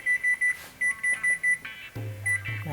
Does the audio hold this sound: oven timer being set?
yes